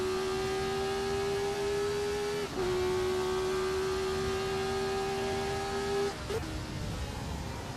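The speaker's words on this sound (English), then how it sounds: "I replaced the sound of this car with the 1970s Formula 1 engine" A 1970s Formula 1 engine in a sim racing game holds a steady high-pitched drone, briefly dipping twice as if shifting gears, loud and continuous throughout.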